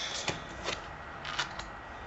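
Oracle cards being shuffled and drawn: a soft, steady riffling hiss with a few faint flicks and slaps, close by and quiet.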